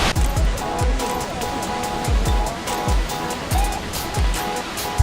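Steady rushing waterfall roars without a break at Sitakunda Eco Park, a loud broad wash of sound with faint rhythmic pulses beneath it.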